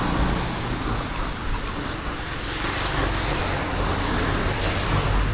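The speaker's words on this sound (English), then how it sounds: "Never ending traffic in Malaysia." Dense, continuous road traffic on a busy highway along Malaysia's east coast, a steady wash of passing cars and heavier vehicles with no pauses.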